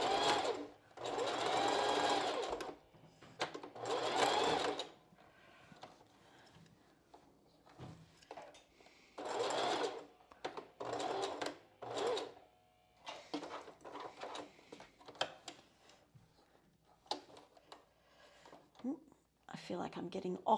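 A sewing machine runs a zigzag stitch on a strapless bra in short bursts of fast whirring, stopping and starting, with quieter handling noises and a voice talking between the runs.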